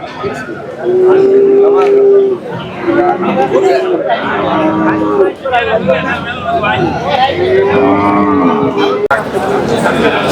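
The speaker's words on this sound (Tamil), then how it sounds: "இது பார்த்தீங்கன்னா செல்வண்ணாவோட கண்ணு." Kangeyam-breed cattle moo repeatedly in long drawn-out calls amid the chatter and babble of the busy Kundadam livestock market, with people talking throughout.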